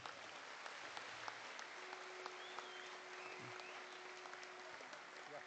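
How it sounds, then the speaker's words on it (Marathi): An audience applauds at a party anniversary ceremony, a steady, even patter of many hands clapping throughout, faint and distant. "या सर्वांसाठी एकदा जोरदार टाळ्या."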